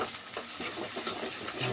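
Crushed garlic, cumin and green chillies being stirred into simmering dal, giving a soft, steady wet swishing with faint sizzle, close and continuous.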